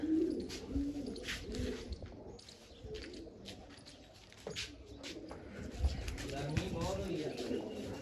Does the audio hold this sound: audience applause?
no